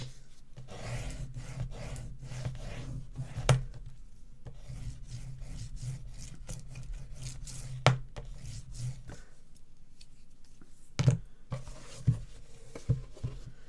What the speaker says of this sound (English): Let's give that another burnish.